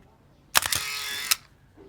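A Canon T70 35mm SLR film camera fires its shutter at 1/60 second: a sharp mechanical clack, a brief whirring wind, then a second click, close and isolated in a quiet room.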